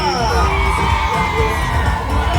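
A crowd at an outdoor Araw ng Pasig celebration cheers and shouts continuously, a dense roar of many voices with children's yells mixed in, loud and sustained throughout.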